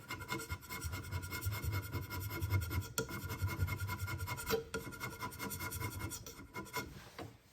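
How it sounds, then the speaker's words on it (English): A hand scraper works the way of a DIY CNC machine, rasping in quick, rhythmic strokes that repeat close up and steadily, with a few brief pauses between passes and no speech. "I'm just getting some little scrape marks in there."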